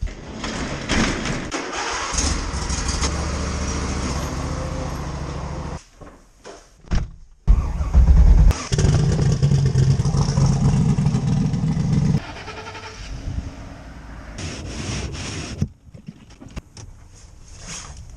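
Ford 5.0 Coyote V8 truck with a K&N cold air intake and about 400,000 km, starting and idling loudly nearby, then pulled into a garage, with door or cupboard clunks and brief quiet gaps.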